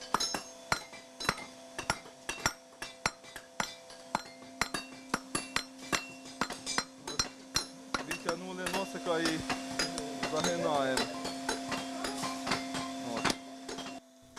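Metallic hammer blows on heated steel ring out at a volunteer forge in a steady rhythm, sharp clanging strikes repeating about twice a second, with a brief stretch of voices talking midway.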